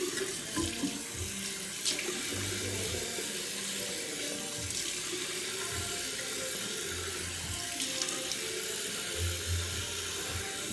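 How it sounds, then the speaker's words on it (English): Tap water runs steadily into a sink while someone washes their face, a continuous hiss and splash with occasional louder splashes as hands move through the stream, close by and with no talking. "I'm gonna go ahead and wash my face"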